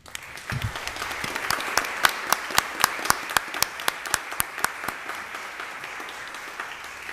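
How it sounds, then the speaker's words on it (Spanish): A seminar audience at a conference on Argentina's ratification of a tobacco control framework convention applauds a foundation and coalition; a steady crowd of clapping rises, with one sharp, regular clapper standing out in the middle, before thinning out toward the end. "merecen un aplauso de todos nosotros"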